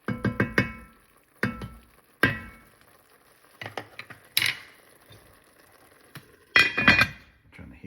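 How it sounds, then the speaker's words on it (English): Spoon stirring tomatoes in a cooking pot, with a series of sharp close scraping clinks and clatters in irregular bursts separated by brief quiet gaps. "I give the tomatoes a stir."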